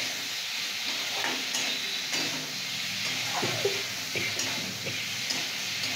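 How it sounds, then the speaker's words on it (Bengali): Pre-fried bitter gourd tipped into a hot pan and stirred, a steady close sizzle with scraping stir strokes and light utensil taps, no talking. "এটা ভেজে রাখা করলাগুলো দিয়ে দিচ্ছি"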